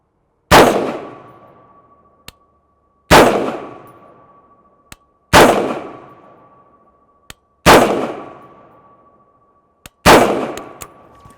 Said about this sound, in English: So I just shot 5 shots.